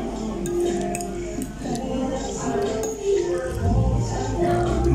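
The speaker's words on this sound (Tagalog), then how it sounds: "Mix lang natin tong carbonara." Cutlery clinks and scrapes against a plate while carbonara pasta is mixed in a cafe, light rapid ticking contacts running steadily over low room noise with a voice murmuring in the background.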